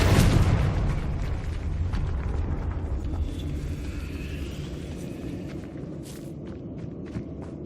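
A Confringo fire spell explodes in Hogwarts Legacy with a loud rumbling burst that fades slowly over several seconds, followed by faint scattered crackles.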